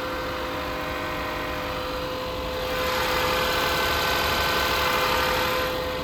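A 2024 Mazda CX-90 engine idles with a steady low hum, rising slightly louder midway and holding, close and continuous.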